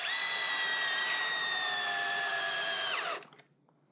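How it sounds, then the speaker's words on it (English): A power drill drives a screw into a piece of timber while building a modern bench, a loud steady whine lasting about three seconds before spinning down and stopping abruptly. "Keep that drill straight."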